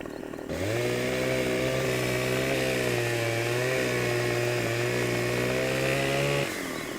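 A chainsaw engine fires up in the Farming Simulator 25 video game, held at a loud, steady high rev for about six seconds of logging before cutting off, with nothing else over it.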